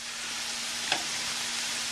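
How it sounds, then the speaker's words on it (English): Organic boneless skinless chicken thighs fry in two pans of oil, giving a steady close sizzle with one small spatter, and no talking. "So I'm going to start putting this organic chicken thighs."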